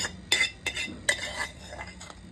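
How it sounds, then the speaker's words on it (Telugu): Fried vegetables being tipped into a mushroom white sauce for pasta, with a few sharp utensil clinks and soft scraping against the pan, close and moderately quiet. "నేను ఏదైతే వెజిటేబుల్స్ బాయిల్ నూనెలో వేగించుకున్నానో అవి వీటిల్లో వేసేస్తున్నాను"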